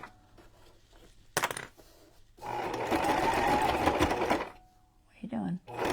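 A sewing machine stitches ribbon in a steady whirring run of about two seconds, preceded by a brief mechanical clack and followed by a short restart, quiet and close with no talk over it.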